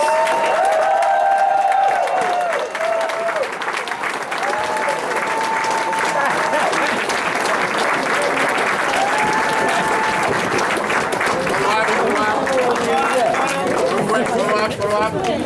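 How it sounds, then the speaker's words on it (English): Sustained, loud crowd applause mixed with cheering fills a convention hall at a Los Angeles Democratic caucus meeting as Attorney General Kamala Harris is introduced, with voices calling out over the steady clapping throughout. "please give an arousing applause for one of my dear friends, the top cop of the state of California, Attorney General Kamala Harris."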